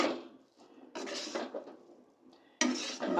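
Maggi noodles and vegetables are tossed in a pan, making several separate bursts of scraping and clattering utensil-on-metal noise with short quiet gaps between them, close and fairly loud.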